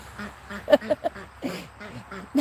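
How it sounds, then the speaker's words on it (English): Pet duck calling on a farm, a few short honking quacks in a quick cluster, close and fairly loud, with a person speaking softly around them. "You're a very pretty bird."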